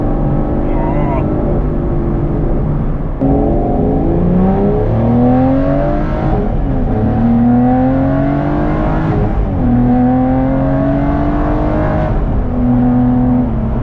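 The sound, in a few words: Aston Martin GT12 V12 engine revving and gear changes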